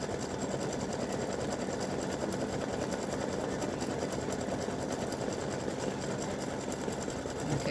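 A sewing machine satin stitching around the edges of a piece, a steady fast mechanical whirring and needle clatter, continuous and even, heard close with no voices.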